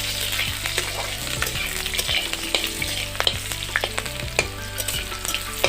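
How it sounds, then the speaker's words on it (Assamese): Onions frying in a pan over a traditional clay stove, a constant crackling sizzle with sharp pops and occasional scraping stirs, close and moderately loud, with no talk. "এতিয়া পিঁয়াজখিনি ভালদৰে ভাজি লওঁ।"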